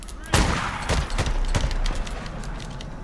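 Gunfire in the PS4 video game Days Gone: a sharp, loud shot opens a quick run of booming, rapid-fire bursts that fade into a rumbling tail.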